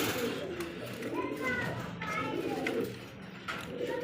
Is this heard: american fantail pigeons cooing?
yes